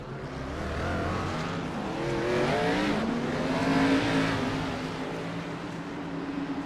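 Race cars pull off pit road at Atlanta Motor Speedway in iRacing, several engines droning and revving together with rising and falling pitch, a steady loud mix with no talk.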